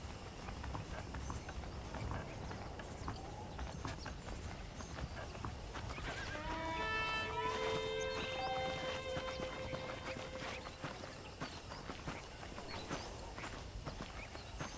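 Horse hooves clip-clop steadily in Red Dead Redemption, a saddled horse walking under a constant wash of ambient background, with a whinny-like tonal call rising around the middle.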